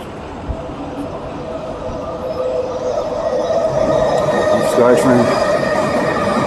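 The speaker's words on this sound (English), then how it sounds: "Skytrain." A SkyTrain rapid transit train passes on a walk through Sapperton toward New Westminster, B.C., a broad rumble with a steady tonal whine that swells louder over several seconds.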